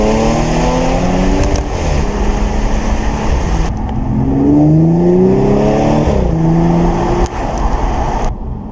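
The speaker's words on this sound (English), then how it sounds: "I kind of like to take my time and just accelerate to hear the sound now and again" An Audi S5 coupe accelerates with its engine and exhaust note rising through the revs, dropping back between gears, then climbing again, loud and close with no talking.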